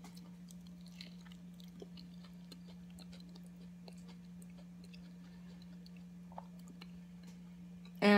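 Faint, close chewing of soft, chewy soursop fruit, with small wet clicks and squishes over a steady low hum; there is no talking.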